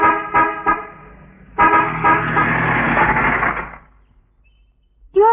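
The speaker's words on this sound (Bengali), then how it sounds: "হর্ন বাজানো তো শুনতে পাচ্ছেন না?" A car horn honks in a Bengali film street scene beside a broken-down car: three quick toots, then a long, loud blaring honk that stops abruptly, followed by silence.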